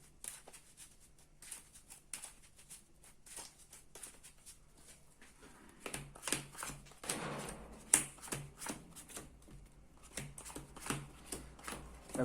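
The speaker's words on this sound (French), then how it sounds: "Donc on va bien mélanger le deck." A Yu-Gi-Oh Dark Magician deck is shuffled up close, its cards riffling and pattering in quick repeated bursts that run throughout, with occasional taps and slaps.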